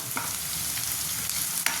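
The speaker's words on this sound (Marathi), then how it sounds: "कांदा लसूण जिरे मोहरी याची फोडणी नीट अशी मुरमुरीत लाल" Tempering of onion, garlic, cumin and mustard seeds frying in oil for an aubergine, potato and tomato dish, a dense continuous sizzle with two quick scraping stirs, close and steady.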